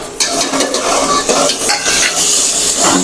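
Tomatoes are stirred into frying onion, potato and ginger-garlic paste for spiced khara rice, giving a steady loud sizzle with repeated spoon-on-pan scraping throughout and no talking.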